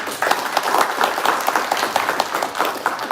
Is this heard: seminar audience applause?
yes